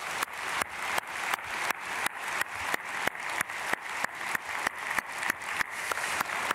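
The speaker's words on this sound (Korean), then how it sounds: "우리 간증한 귀한 집사님 가정 위해서 박수로 축복하겠습니다." A church congregation at a dawn prayer service claps together in a steady, even rhythm, sharp hand strikes roughly three per second, moderately loud and without voices.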